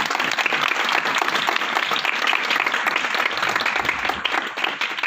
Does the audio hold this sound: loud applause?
yes